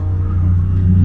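A loud, close turbocharged 1UZ V8 engine in a 200SX drift car rumbles and revs steadily for about a second, the low drone swelling slightly toward the end.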